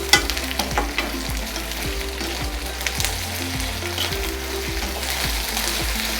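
Ginger and garlic sizzle steadily in a hot pan of oil for Chettinad mutton pepper fry, with repeated scraping and stirring strokes of a spoon against the pan over the constant frying hiss.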